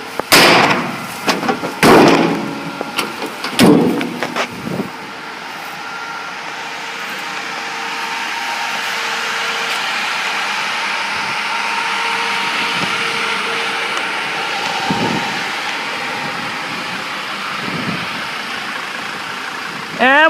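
A 2006 Dodge Sprinter 3500 diesel van set up as a prisoner transport vehicle, its engine running with a steady, loud idle drone, preceded by sharp knocks and bangs in the first few seconds and occasional thumps later.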